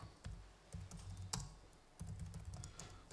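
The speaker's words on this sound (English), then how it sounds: "I can stop typing." Someone types on a computer keyboard in quick, uneven bursts of soft clicks with short pauses, close by and fairly quiet.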